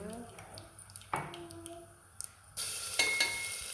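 Fenugreek seeds, cumin and garlic crackle in hot oil while being stirred, with a few utensil taps and a louder burst of sizzling near the end; a voice speaks briefly.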